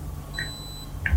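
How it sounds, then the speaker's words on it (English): Short electronic beeps from a Univiso Spark streaming device switching on: two brief tonal chirps about two-thirds of a second apart, fairly close and clear over low background hum. "long press and you will hear a beep"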